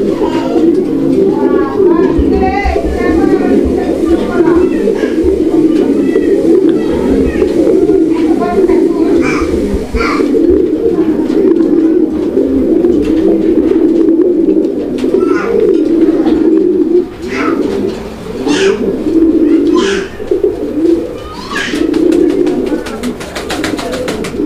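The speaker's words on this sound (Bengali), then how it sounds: "খুব সুন্দর কোয়ালিটি ফুল এক জোড়া লাহোরি কবুতর।" A pair of fancy Lahori pigeons coo in low, rolling phrases, close and steady across the whole stretch, while someone talks over them almost continuously.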